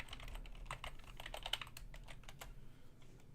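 Someone types a password on a computer keyboard, producing a run of quick, light key clicks at an irregular rhythm with a few sharper taps. The sound is close and fairly quiet, with no one talking.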